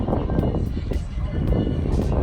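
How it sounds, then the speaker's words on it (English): A small toy drone flies close by outdoors in a park, a steady whirring buzz of propellers mixed with wind noise, continuous for a couple of seconds. "Well, not a Spark, but a toy drone."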